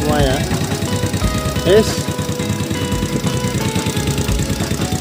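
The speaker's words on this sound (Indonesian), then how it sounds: "Motor udah mau digas" Honda Revo motorcycle engine with a worn camshaft idling after repair, a rapid steady chugging pulse running close and loud throughout, while someone speaks briefly over it.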